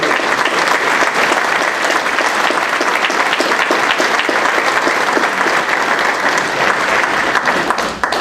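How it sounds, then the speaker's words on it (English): An audience at a Rotary Club of Charlotte luncheon applauds a guest, the clapping loud, dense and sustained for several seconds before it begins to thin out. "So let's give Reggie a nice round"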